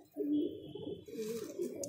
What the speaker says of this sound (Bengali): পুরনো বংশের পায়রা